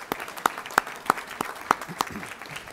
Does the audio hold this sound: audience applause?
yes